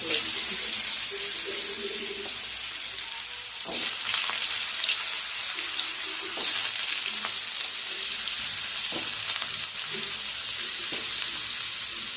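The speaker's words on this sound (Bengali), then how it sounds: "আমি হালকা করে নাড়াচাড়া করে ভেজে নেব" Cut potatoes with two bay leaves frying in oil while being gently stirred, a continuous close sizzle broken by a few sharp utensil knocks and scrapes, no voices.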